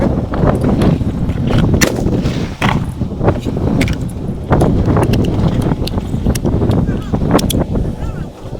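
A 6.5 Creedmoor rifle firing 147 gr factory ELD-M rounds from a seated position on a Bog Deathgrip tripod at a 100-yard range: repeated sharp, loud reports spaced irregularly over a dense background of outdoor noise.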